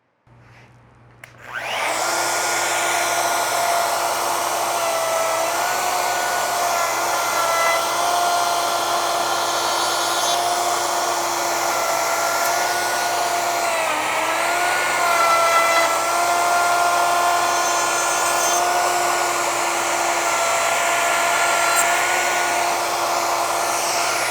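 A pencil post bed is being made, and a steady high whirring machine noise starts after a brief quiet and runs loud and continuous while a wooden bed post is planed.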